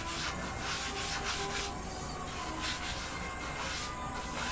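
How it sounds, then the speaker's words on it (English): Steel wool scuffs polyurethane-coated wood on a pedalboard build, a steady, close, abrasive rubbing with strokes that rise and fall along the grain, and no talking. "Then we take some steel wool and we scruff it."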